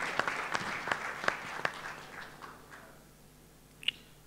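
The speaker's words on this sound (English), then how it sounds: "Can we give a round of applause to our first panelist, Tan Sri Lee Oi Hian?" Audience at a CEO forum in Kuala Lumpur applauds a panelist, sharp scattered claps that build briefly then thin out and fade, leaving a quiet room with one late clap.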